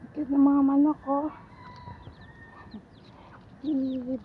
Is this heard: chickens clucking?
yes